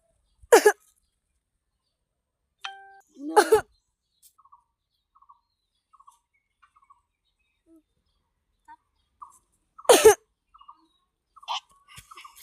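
A person coughs in a few sharp, separate bursts, loud and close, with quiet gaps and soft faint sounds between them.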